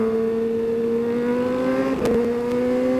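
A 2019 Kawasaki ZX-636R motorcycle engine holds a steady high rev, its harmonic tone climbing slightly, then drops briefly around a quickshift before carrying on, loud and close with no talk.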